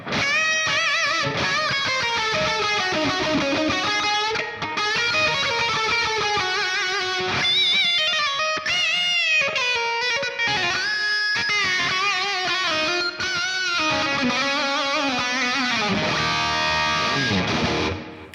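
A sustained electric guitar lead line with bent notes, its tail echoing and washing out through delay and reverb, steady and loud throughout.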